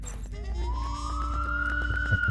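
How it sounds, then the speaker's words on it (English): In the Leisure Suit Larry video game, a police siren wails upward and holds a rising tone over a dense, noisy background. "Police sirens."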